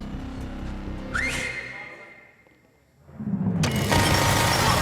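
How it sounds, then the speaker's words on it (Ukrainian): A bright, rising whistle cuts through a dense, noisy background of machinery and rumble in a film scene set in a factory, followed by a quieter stretch before loud ambient noise returns. "навіщо було свистіти?"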